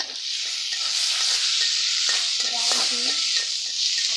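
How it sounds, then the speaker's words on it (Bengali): Onions fry in a pan with a loud, close, steady sizzle, overlaid by busy scraping and stirring sounds; no talking. "পেঁয়াজ ভাজা ভাজা হয়ে গেছে"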